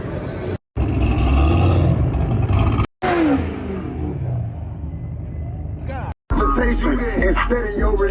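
Car revving at a car meet in Jacksonville, Florida, loud engine roar and rumble with abrupt cuts, people talking nearby and outdoor crowd noise.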